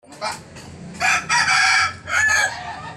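Several chickens let out of their coop squawk and crow in loud, close bursts, some separated by short gaps and some running back to back, with clucking in between.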